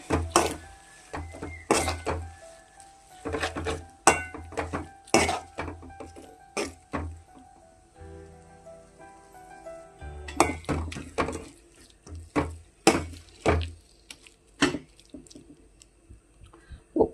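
Small onions being mixed and sautéed in a pan for onion thokku, with repeated clinks and scrapes of a utensil against the pan over a soft sizzle, in irregular bursts.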